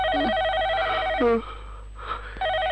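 A telephone rings late at night, its electronic trill sounding near and clear at the start and again at the end, with a brief breathy voice in the gap between rings.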